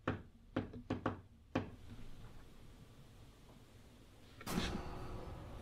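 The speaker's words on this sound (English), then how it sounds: "Can you do two knocks?" Several sharp wooden knocks during a ghost hunt at the Queen Mary ship, a quick cluster of four or five raps near the start, followed by quiet room tone and a brief louder rustle toward the end.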